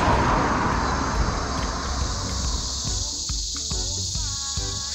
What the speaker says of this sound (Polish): Sorry za te odgłosy, ale to cykady.